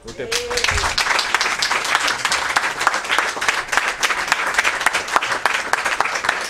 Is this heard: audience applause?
yes